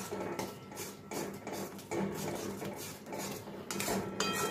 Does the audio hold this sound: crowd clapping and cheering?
no